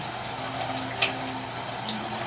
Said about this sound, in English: drop them into the water, I'm rinsing them and straining them one more time.